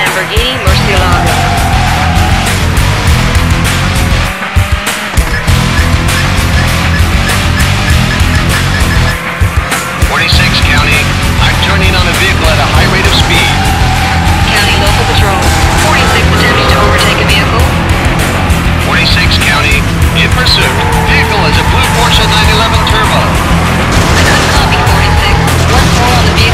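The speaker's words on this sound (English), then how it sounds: "Lamborghini Murcielago." A Lamborghini Murcielago's engine roars loud and unbroken while racing in Need for Speed: Hot Pursuit 2, with repeated tire squeals and skids over a constant high-revving drone.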